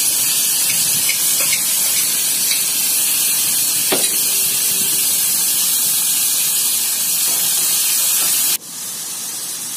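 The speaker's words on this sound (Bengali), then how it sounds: "পেঁয়াজটাকে একটু ভেজে নিয়েছি।" Chopped onion with salt fries in hot oil, a loud continuous hiss and sizzle close by, with a few faint clicks, dropping suddenly quieter near the end.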